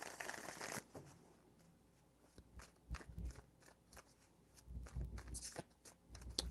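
Tarot cards are shuffled close up and quietly. A brisk riffle opens, followed by softer, irregular crackling slides and taps of the deck.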